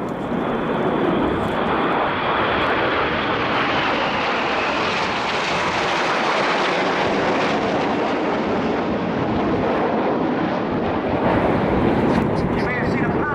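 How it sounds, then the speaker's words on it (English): Red Arrows RAF display jets roar past at the Royal International Air Tattoo air show, a loud continuous sweeping engine rush with wind buffeting across the whole stretch, no talk audible. "you'll see a single jet that is Red 9. He will now fly in between Enid's B as they complete the Goose"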